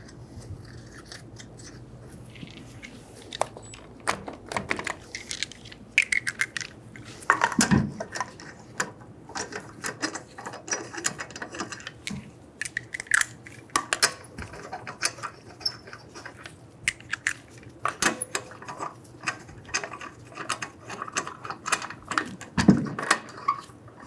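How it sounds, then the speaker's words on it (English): Lug nuts being threaded and snugged onto a wheel during rear control arm work on a 2011-2014 Hyundai Sonata: scattered metallic clicks, ratcheting and scraping taps over about twenty seconds, close and irregular, with no talking. "Install the wheel. Get the lug nuts started."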